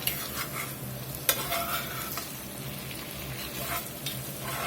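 Green beans cooking in a hot pan sizzle steadily and close, with the scrape of stirring and a sharp clink of a utensil partway through, no voices.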